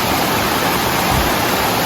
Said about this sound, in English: these creek crossings are roaring right now